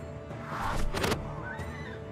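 A horse whinnies sharply during a Numantia battle against Rome, one short neigh, fairly quiet, amid low battle ambience with no talking.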